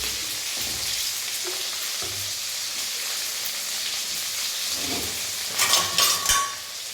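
Green chillies and rock salt sauté in a hot pan, giving a loud continuous hissing sizzle with a few low stirring knocks and a brief louder flare of crackling near the end.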